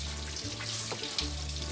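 Water rushing and gurgling as a car radiator is flushed out, steady splashing flow with a brief interruption midway, close and fairly loud.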